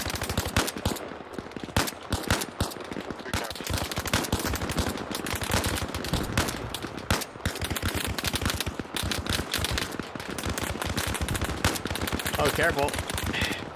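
Outgoing machine gun fire in Arma Reforger during a platoon assault, sustained bursts of rapid shots running throughout, loud and near, with brief talk over the firing.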